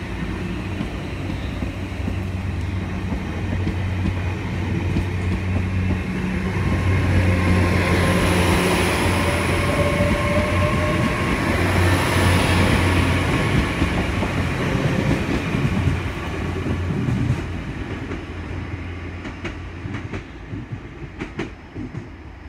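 Class 802 train 802.09 on the evening 18:48 service to London Paddington at St Austell station in the dark, a loud sustained rumble and roar of the train passing close by, easing into quieter ticking and clicks toward the end.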